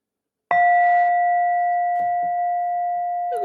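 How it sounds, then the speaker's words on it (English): A meditation bell is struck once, giving a clear, loud strike that rings on as a steady, pure tone through the rest of the moment, with faint soft movement sounds beneath. "I'm gonna ring my bell."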